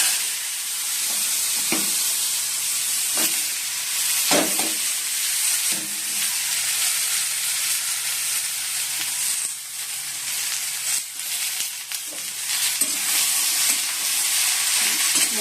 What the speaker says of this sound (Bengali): কড়াইতে তেল দিয়ে দিয়েছি, আলু ভাজবো এবার।